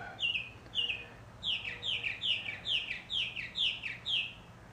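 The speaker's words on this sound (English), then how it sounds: "Apparently there's a bird in the background that really enjoys this process." A small bird repeats a bright, rapid chirping phrase about nine times in a steady rhythm, moderately distant, behind a quiet indoor workshop where contact cement is being stirred.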